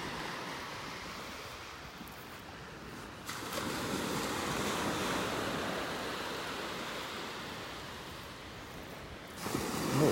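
Ocean waves wash onto a beach in North Naples, Florida, on an Easter Sunday morning, a steady broadband surf roar that swells louder near the end, with no voices.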